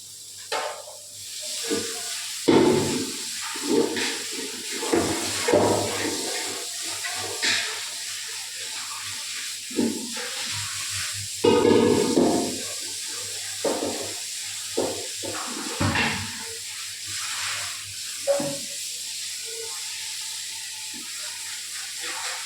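Water splashes and pours in bursts while an uruli cooking vessel is rinsed, with repeated rushing washes and clatter close by over about twenty seconds, no talk.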